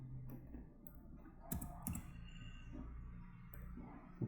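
Computer keyboard typing of code, light uneven clicks and a couple of sharper key strikes, close and quiet, no one speaking.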